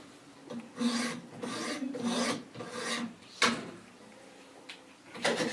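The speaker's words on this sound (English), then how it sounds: "we're going to do 2 quick strokes with our 200 grit stones" Coarse 200-grit stones rasp along a ZT0770 knife edge clamped in a Wicked Edge sharpener, several quick back-and-forth strokes in a steady rhythm, close and clear, with a sharp click midway.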